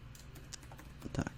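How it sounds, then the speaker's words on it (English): A password is typed on a computer keyboard during a login for screen sharing: quiet, uneven key clicks tap in a quick irregular patter, with a few firmer strokes near the end. "We're going to type our password one more time."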